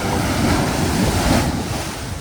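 Loud, continuous rush of ocean waves on a Konkan beach, a steady broadband roar mixed with wind buffeting the microphone, with no voices.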